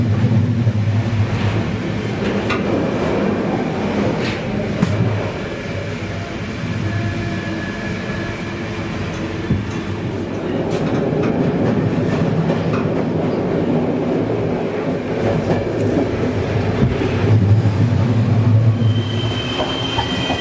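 Continuous rumble of a train from Poland to Ukraine rolling along the rails from inside a carriage, with wheel clatter, occasional clicks and faint squeals.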